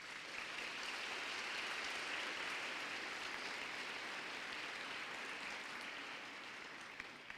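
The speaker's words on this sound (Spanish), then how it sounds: "Dale un aplauso al Señor." A church congregation applauds at a Spanish-language spiritual renewal service, a steady, fairly faint wash of clapping that holds evenly throughout with no voices over it.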